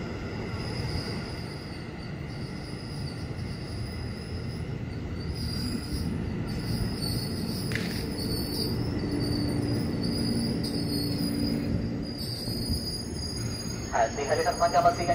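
A KRL Commuter Line electric train arrives at Jayakarta station, its wheels and motors rumbling steadily on the rails for the whole stretch, with high metallic squeals and a faint announcement-like voice toward the end.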